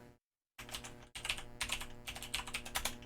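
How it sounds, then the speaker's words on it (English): Loud, fast clicking of a computer keyboard being typed on, close up and steady after a brief silent gap, with no voices. "Sorry, I know everybody can hear that. I'm on loud keyboard duty."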